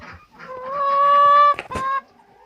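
Backyard chickens being fed a homemade low-cost feed mix call out loudly with a long, sustained honking squawk, then a couple of shorter cries, close to the listener and with no talking.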